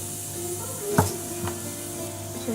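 Whole garam masala spices dropped into a hot pan of oil for a North Indian paneer masala, giving a steady low sizzle with a sharp clatter near the middle and a softer knock just after, no voices.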